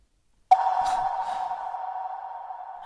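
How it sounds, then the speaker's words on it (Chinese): A phone ringing tone: one steady electronic tone starts abruptly after a brief silence and holds unbroken, fairly loud and close, with no talking. "我打个电话啊。"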